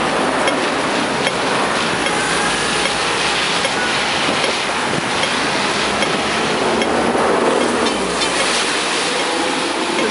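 A double-decker tram rolls through a street in Hong Kong, a loud continuous rumble and rattle of wheels on rails, close by and filling the whole stretch without talk.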